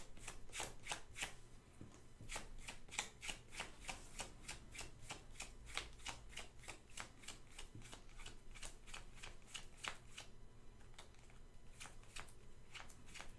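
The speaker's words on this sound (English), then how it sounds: "And then you shuffle your library." A Magic: The Gathering card library is riffle-shuffled by hand, with rapid crisp card flutters repeating steadily and close for the whole stretch, with no voices.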